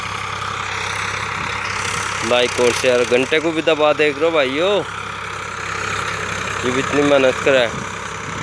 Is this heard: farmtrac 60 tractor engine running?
yes